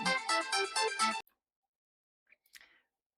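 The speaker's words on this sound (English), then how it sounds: "and the phone's ringing." A phone rings indoors with a bright, repeating electronic tone in a quick run of pulses that stops abruptly, leaving near silence broken by a couple of faint clicks.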